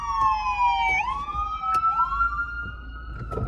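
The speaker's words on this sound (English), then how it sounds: "And we got some ambulance coming behind us." An ambulance siren wails from behind a moving car on a West Philadelphia street, its tone sweeping steadily and loudly over the road noise.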